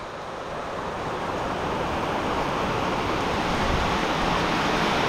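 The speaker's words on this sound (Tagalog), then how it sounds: "lakas ng ulan" A steady, dense roar of heavy rain pours continuously on a farm, loud and unbroken, with no voices.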